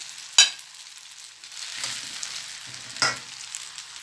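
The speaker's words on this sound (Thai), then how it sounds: "มีเต้าหู้เนาะกับกุ้งนะคะใส่ลงไปเลยค่ะ" Tofu and shrimp added to a hot wok for pad thai: a couple of sharp metallic clanks over a soft, intermittent sizzle and stirring, close by and otherwise quiet.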